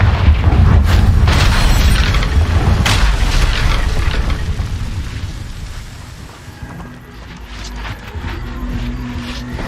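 Confringo spell explosion in Hogwarts Legacy, a loud deep booming blast with rumbling debris that slowly dies away, followed by quieter lingering rumble and faint mechanical clatter.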